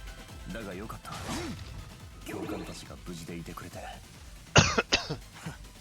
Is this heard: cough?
yes